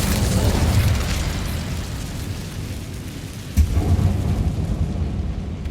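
Incendio fire spell cast in Hogwarts Legacy, a loud, continuous roaring whoosh with rumbling low end that holds steady for several seconds, one sharp thump partway through, close and dense with no talk.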